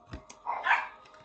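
A few short dog barks and yips from a short distance, brief and irregular, with a faint background hum.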